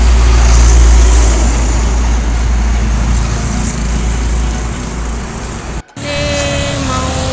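A heavy truck rumbles past close by on a road toward Bandung at night, with a loud low engine drone that slowly fades, followed by a brief gap and quieter road noise.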